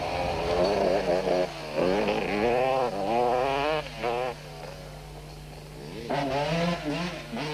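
Racing motorcycles, including a Winston Yamaha 200, scream around a tight course, with rising and falling high-revving engine notes as machines pass and shift, under a voice commentating.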